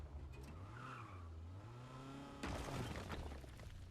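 A car skids and its tires squeal on the road in Fortnite while the engine revs underneath. Near the end there is a sharper burst of rough scraping noise. The sound is faint throughout and no one talks.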